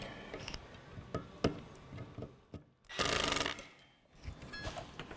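Screws being tightened on a thermoelectric wine cooler's cooling kit: scattered small ticks and scraping rubs, with one louder whirring burst of driving about a second long near the middle, all fairly quiet.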